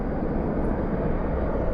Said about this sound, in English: Moment of truth for this Dreamliner headed back to Istanbul